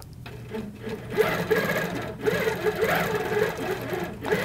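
An HQ Avanté longarm quilting machine stitching, with a steady, fairly close mechanical whirr and rhythmic needle chatter that rises and dips slightly as it runs.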